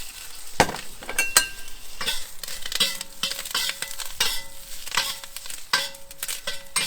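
Bok choy frying briefly in a little oil in a pan, giving a close, bright sizzle with stirring scrapes and occasional clinks of utensils against cookware.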